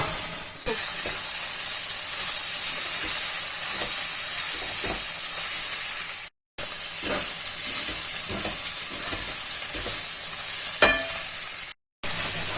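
Chicken keema methi with curry leaves cooks uncovered in a pan, giving a loud continuous sizzle and hiss with occasional stirring scrapes, broken by two brief silent gaps.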